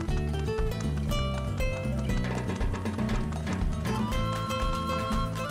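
Hooves of a Paso Fino horse moving in a quick, even clip-clop rhythm, heard under background music with no talking.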